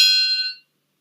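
A steel triangle struck once, ringing bright and metallic with many high overtones, sustaining for about half a second before being abruptly damped by hand into silence.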